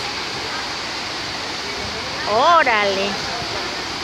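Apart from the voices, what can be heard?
Misol-ha waterfall cascading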